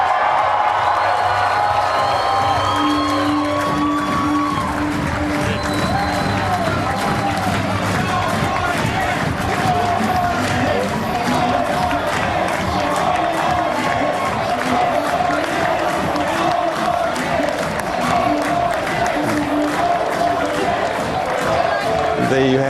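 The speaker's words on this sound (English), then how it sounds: "He's walking through the door now to a rapturous crowd." A rapturous crowd at the Sofitel cheers as NSW Premier Mike Baird arrives on election night in 2015, a dense roar of shouts, whoops and clapping that runs on continuously, with voices heard through it.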